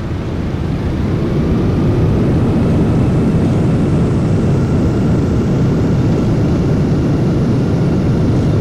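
A Boeing 737 in a flight simulator game touching down and deploying reverse thrust, heard as a loud, constant engine roar that holds steady throughout with no voices.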